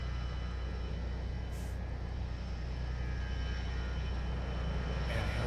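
Piper PA-28R Turbo Arrow III light aircraft engine droning steadily during takeoff, a constant loud propeller-engine hum heard from inside the cabin, alone without talk.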